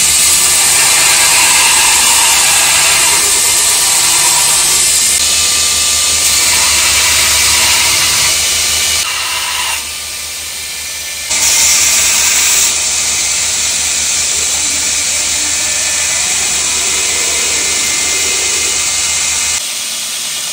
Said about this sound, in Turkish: Ardından bant zımparayla bıçağın şeklini veriyor.